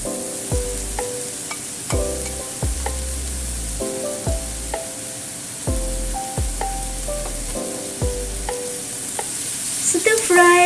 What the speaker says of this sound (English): Stir fry the noodles with the vegetables together.